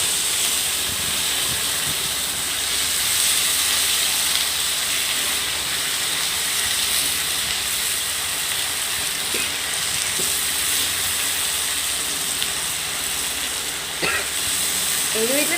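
Potatoes frying in an iron kadai with salt and curry leaves make a continuous, even sizzling hiss with faint occasional stirring scrapes, close and steady throughout, with no talking.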